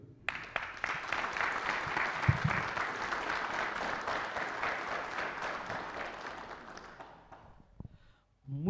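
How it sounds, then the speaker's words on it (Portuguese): A crowd at a public hearing in a council chamber applauds the mayor with sustained, even clapping that fills the room for about seven seconds before fading to near silence. "uma salva de palmas para o nosso governo"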